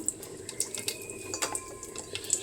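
Water runs and splashes steadily from a tap into a cooking pot, about half a litre, with small clinks and drips scattered through it, fairly close and moderately loud.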